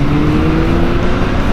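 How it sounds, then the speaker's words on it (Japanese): A restored Honda CBX1000 big motorcycle, around 100 horsepower, accelerates on a test ride, its engine a steady loud drone with wind noise filling the whole moment. "アクセル入れた時のこの加速が結構なんかもう"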